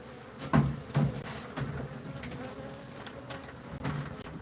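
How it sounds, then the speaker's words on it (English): Feral honeybees colonising a cupboard buzz in a continuous low drone, with a few louder close knocks and thumps from handling the cupboard over it. "Feral honeybees."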